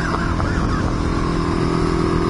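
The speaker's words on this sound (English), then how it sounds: "fifth gear wheelies." A motorcycle engine holding a loud, steady high-rev drone while doing fifth gear wheelies on the road, heard close and continuous with wind noise.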